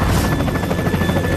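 A helicopter flies close overhead in a film clip, its rotor giving a loud, steady rapid chopping throb over a dense background.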